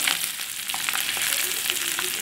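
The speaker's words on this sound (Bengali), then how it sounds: "এই যে দেখুন আমার কয়েল পাখির ডিমগুলো ভাজা হয়ে গেছে, লাল লাল হয়ে গেছে" Quail eggs frying in a pan, giving a steady crackling sizzle with a few stirring scrapes, close and fairly loud, no speech.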